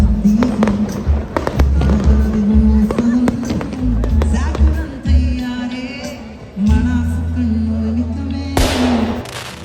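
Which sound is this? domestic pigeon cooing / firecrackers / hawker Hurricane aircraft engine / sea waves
firecrackers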